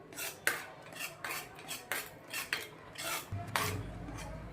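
A spoon scraping and clinking against a metal pan as ghee is mixed into instant khoa, a rhythmic series of close stirring strokes, fairly quiet with a low hum at the end.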